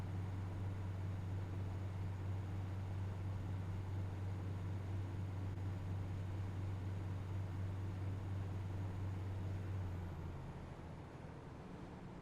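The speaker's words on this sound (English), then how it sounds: "You can hear the fluid change over there in the gearbox." Diesel train engine in Train Simulator Classic on the Buxton to Stockport route, a steady low drone with a hollow rumble that holds for ten seconds, then drops and softens as the gearbox fluid change lowers the engine pitch.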